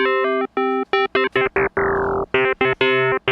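A bright FM-synthesized electric piano tone from a Rhodes preset, playing a series of short, separate notes with one longer held note midway, clean and close.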